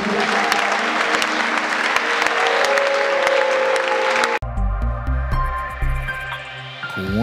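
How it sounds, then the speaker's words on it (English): A church conference congregation claps hands together in dense, loud, steady applause for about four seconds, then it cuts abruptly to music with tonal notes. "Somebody clap your hands for Jesus."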